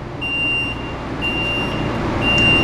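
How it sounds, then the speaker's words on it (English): Three evenly spaced high electronic warning beeps, each about a second long, from a San Diego Trolley ramp deploying, over a steady low engine hum. "It's gonna beep for a second,"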